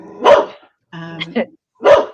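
An excited dog barks sharply twice, close and loud, with a short whimpering vocal sound between the barks.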